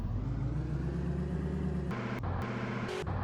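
A convertible car's engine runs steadily in a video game, a loud mid-pitched drone with a few brief interface blips near the end.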